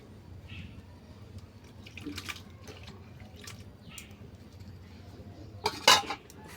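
A utensil stirs food in a cooking pot, giving faint, occasional scrapes and clinks against the metal, ending with a sharper clatter near the end in an otherwise quiet kitchen.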